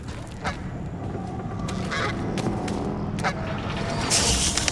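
A goose honks in the Atomic Heart video game, a few brief calls rising over a dense, continuous game soundscape with a loud noisy burst near the end.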